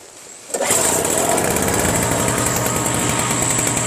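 A lawn tractor engine fires up from a cold start with the choke fully on, jumping from quiet to a loud, steady, close buzzing run that holds evenly after starting.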